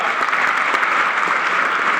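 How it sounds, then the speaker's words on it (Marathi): An audience applauds at a Shivaji Jayanti celebration speech, a dense, even burst of many hands clapping that fills the whole moment without pause. "हा संकेत टाळ्या वाजवा"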